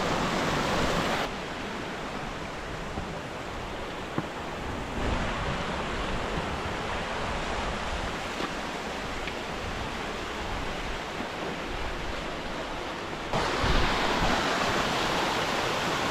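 Steady broadband roar of water rushing down a waterfall on Pavey Ark in the Lake District, continuous and close, with no talk over it.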